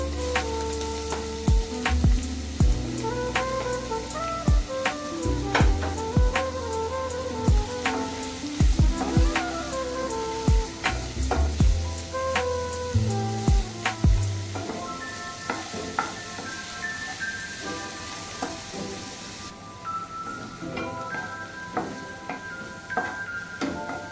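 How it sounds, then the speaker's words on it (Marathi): Finely chopped onion frying in a pan, a soft continuous sizzle broken by repeated metallic clinks and scrapes of a spoon stirring over it, with no talking. "कांदा घालून घ्यायचा बारीक चिरलेला"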